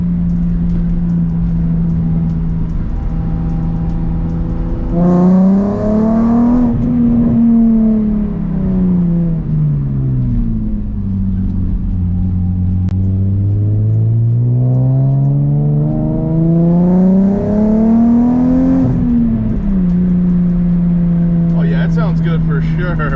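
Nissan 350z fitted with a Flashark Y-pipe single exhaust, engine note rising and falling through downshifts, a steady idle drone swelling into two revving blips with throttle and settling back, loud and close throughout.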